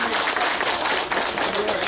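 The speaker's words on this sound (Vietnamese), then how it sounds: "Xin các cụ cho một tràng vỗ tay." A gathering at a 100th birthday celebration breaks into dense, continuous applause, a steady wash of many hands clapping with no pauses.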